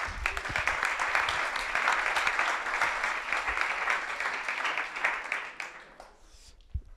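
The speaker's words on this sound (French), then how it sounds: "Et maintenant, on applaudit Immersite." Audience at a startup pitch night applauds a company, steady clapping that holds for several seconds then dies away with a few stray claps and a thump.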